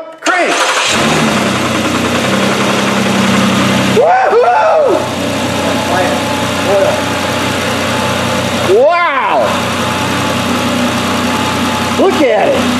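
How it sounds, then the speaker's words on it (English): A 3.7-litre Duratec engine swapped into a car cranks briefly and catches, then settles into a loud, steady idle that runs throughout, with short bursts of voices talking over it. "Mercedes, put the key in the ignition. Don't turn it yet. 3, 2, 1, crank."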